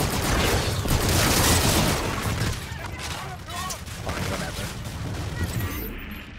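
Heavy gunfire and an artillery strike in Call of Duty Infinite Warfare roar as a loud, continuous barrage of shots and blasts that stays dense and thick throughout, with radio-style voices talking faintly underneath.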